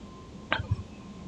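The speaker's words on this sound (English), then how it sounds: "Just yawning and hiccuping at the same time." A single hiccup, caught in the middle of a yawn, comes as a short breathy catch followed by a low thump, close and quiet over faint background hum.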